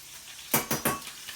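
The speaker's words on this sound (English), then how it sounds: "your tomatoes should be cooking, and you just stir them around in the oil a bit" Three quick bursts of hissing sizzle with faint utensil scrapes as cherry tomatoes are stirred around in hot oil in a pan.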